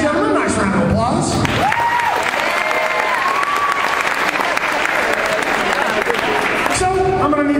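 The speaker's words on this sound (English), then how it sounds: "Ladies and gentlemen, nice round of applause." Loud, sustained applause and some cheering from an audience at an after-prom hypnotism show, filling the room, with voices briefly heard at the start and end.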